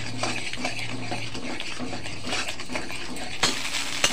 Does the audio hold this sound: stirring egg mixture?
yes